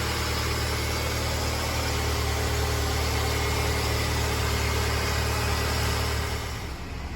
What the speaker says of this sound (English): Car's back on the ground and running